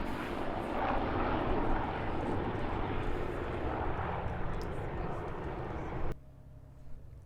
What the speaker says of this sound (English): of old warbirds and modern warbirds, and they'll fly them together in formation